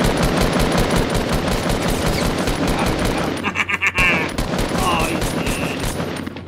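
Rapid automatic gunfire from the Fortnite video game rattles in loud, dense bursts with booming impacts, and voices talk over parts of it.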